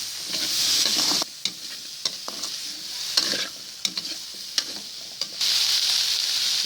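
Squash and vegetables for pinakbet stirred in a hot pan, a loud steady sizzle broken by a quieter stretch of clattering spoon scrapes and knocks, then the full sizzle returns.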